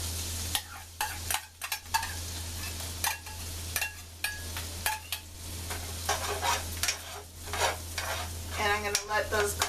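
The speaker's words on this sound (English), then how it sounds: "now that the butter has melted and the pan has heated up, I'm going to add my onions." Onions sizzling in melted butter in a hot pan, a soft continuous fry broken by irregular clicks and scrapes of a utensil stirring, fairly quiet and close.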